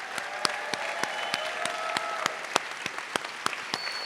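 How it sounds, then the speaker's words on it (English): At a university Latino graduation celebration, a thin audience applauds faculty and staff with a sparse, steady run of distinct, crisp claps at roughly even intervals over a quiet background with faint tonal hum. "So please, an applause to the faculty, to the staff, for those who have been walking with you."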